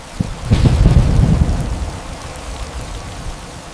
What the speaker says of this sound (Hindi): कितनी तेज आंधी चल रही है